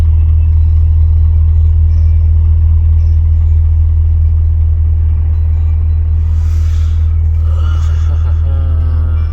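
A car pulls away slowly on a snow-covered, sanded road, its engine a steady low rumble close by that holds throughout, with faint hissing and other traffic noise near the end.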